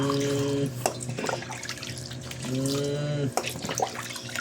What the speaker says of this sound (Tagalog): Siya ay naliligo sa Planggana.